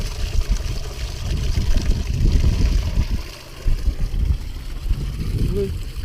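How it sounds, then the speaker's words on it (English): Water trickles steadily in a small garden water feature at a colourful place in Scotland, a continuous low burbling wash that sits close and fairly loud throughout. "a little water feature."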